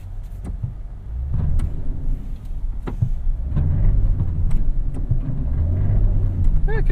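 A 2017 Toyota Tundra SR5 4x4 TRD Off Road pickup climbs uphill off-road, its low engine rumble steady beneath scattered clunks and knocks from the truck, with people talking inside the cab.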